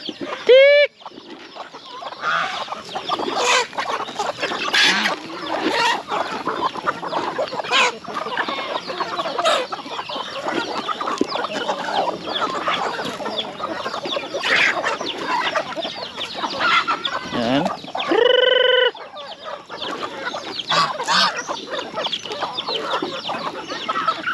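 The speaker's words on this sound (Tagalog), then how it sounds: "may iba pang manok sa labas" Several chickens cluck busily and continuously nearby, with a rooster-like call briefly standing out; a steady farmyard hubbub.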